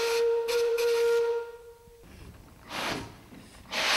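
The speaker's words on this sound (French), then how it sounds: "C'est suffisant pour actionner le sifflet et déplacer la machine." A steam locomotive whistle blows a steady tone for about two seconds, then cuts off, followed by bursts of hissing steam.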